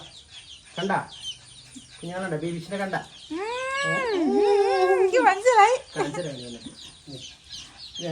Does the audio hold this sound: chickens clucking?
yes